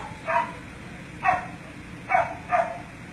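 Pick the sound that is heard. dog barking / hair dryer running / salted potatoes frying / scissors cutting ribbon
dog barking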